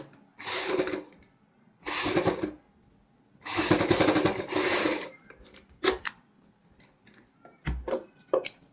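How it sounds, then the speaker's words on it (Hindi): A sewing machine stitches a sleeve seam down the center in several separate bursts of about a second each, with brief clicks and handling noises between the runs. No one talks. "सेंटर में सिलाई लगानी है।"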